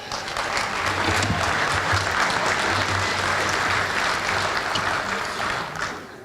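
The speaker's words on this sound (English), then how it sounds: "if we could hold the applause just a little, it will help us get through this quicker" A large audience claps in a dense, continuous roar at a fire department recruit class graduation ceremony, holding steady for about six seconds before tapering off.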